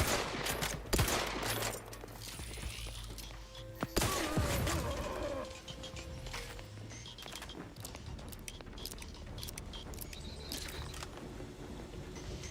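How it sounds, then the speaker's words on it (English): Rapid bursts of gunfire from a space shooter video game crackle through dense battle noise, loudest in the first few seconds, then continuing as scattered shots beneath a steady game soundscape. "We won't shoot anyone that's not shooting at us."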